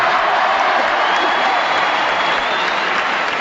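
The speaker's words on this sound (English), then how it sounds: "Cheers and boos for McEnroe." Large Wimbledon crowd at the 1980 men's final between Borg and McEnroe, a dense, steady wash of cheering and applause filling the air at close range with no break.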